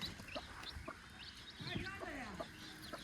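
A hen clucks softly amid scattered high peeping from her chicks, the calls irregular and close, with a quiet background.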